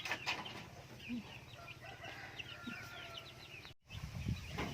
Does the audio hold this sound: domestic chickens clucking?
yes